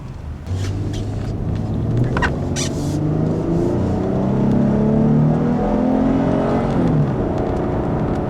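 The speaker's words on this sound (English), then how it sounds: "And acceleration from the new V6 is actually quite impressive." A 2012 Dodge Charger SE with its V6 engine accelerates hard, the engine note climbing steadily in pitch from a low drone, heard loud and close from the cabin.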